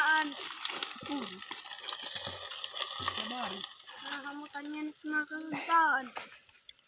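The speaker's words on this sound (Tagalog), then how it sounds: "maggigisa tayo, gisa, bawang" Garlic sizzles steadily in a hot pan, a constant bright frying hiss under a voice talking over it.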